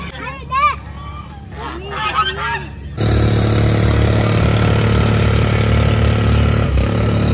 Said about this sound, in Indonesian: Hey, apa ini namanya? Angsa.